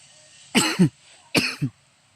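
Two separate coughs, each a pair of harsh bursts, close and fairly loud, with a short quiet gap between them and no talk.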